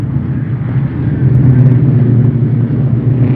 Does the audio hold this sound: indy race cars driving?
yes